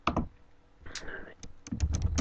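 Quick bursts of keystrokes on a computer keyboard, a Facebook post being typed, come in short clusters of clicks at close range, with someone speaking German softly around them.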